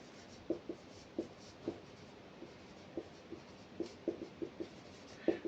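Chalk or pen writing on a board during a plant anatomy lesson, a series of faint, short scratchy strokes in an irregular rhythm, with no talk.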